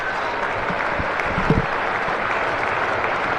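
Cricket crowd at a county match applauds a batsman reaching his century, a steady broad wash of distant clapping that holds at an even level throughout, with a brief louder swell near the middle.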